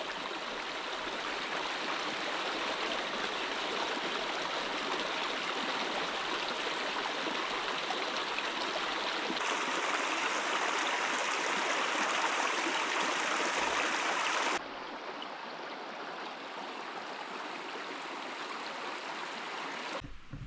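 A steady rush of creek water flowing over rocks, continuous and fairly close, with a slight shift in tone partway through and no voices.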